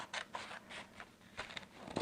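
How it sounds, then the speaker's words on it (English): Scissors snip through paper while cutting out a shape, making quick, faint crisp cuts in short repeated bursts with small pauses as the paper is turned, close and quiet with no talking. "I'm cutting it out, I'm following that line, turning the paper as I go."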